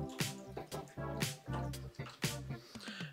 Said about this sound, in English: we're gonna go ahead and pour this in to the fountain.